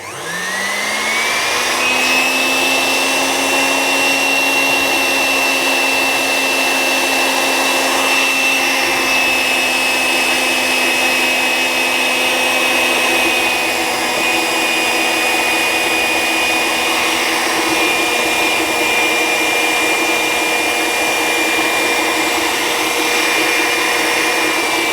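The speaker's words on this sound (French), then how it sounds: "je vais mettre le batteur à vitesse maximum et je vais incorporer ma crème pâtissière en 5-6 fois" An electric hand mixer runs at maximum speed, beating butter with pastry cream in a kitchen, giving a loud, steady high-pitched whine that spins up at the start and holds for the full stretch.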